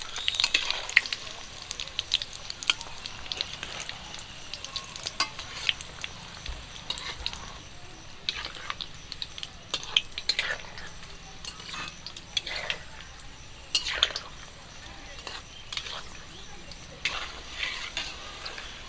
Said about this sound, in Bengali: উনানের হিটটা কিন্তু একদম কমিয়ে দিয়েছি চপগুলো আমার ভাজা হয়ে গেছে